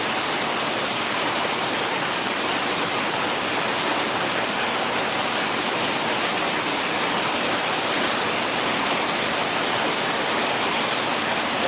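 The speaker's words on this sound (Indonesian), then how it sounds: "Curah hujannya tinggi banget." Heavy rain pours down at night in Padang, Indonesia, in a dense, unbroken hiss, steady and loud from start to finish with no voices.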